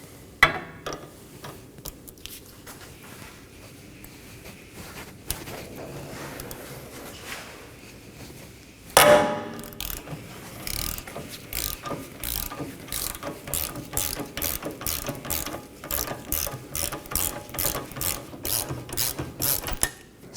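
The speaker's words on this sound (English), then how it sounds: "Support the bolt side with a wrench and break it free." A wrench works a rear lower control arm bolt loose on a 2018-2024 Toyota Camry, 14mm on the bolt side and 17mm on the nut side. A sharp metallic crack comes first, then a steady run of close, rhythmic ratchet clicks.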